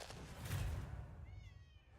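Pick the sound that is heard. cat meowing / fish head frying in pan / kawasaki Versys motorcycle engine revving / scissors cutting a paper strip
cat meowing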